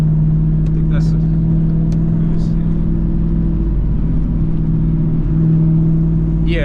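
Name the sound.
Audi A3 car engine revving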